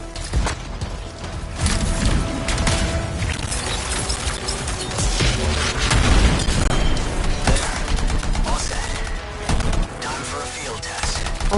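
In the video game Anthem, a canister trap explodes amid dense, loud game audio: booming blasts, crashing debris and rattling gunfire-like bursts run continuously throughout, with no pauses.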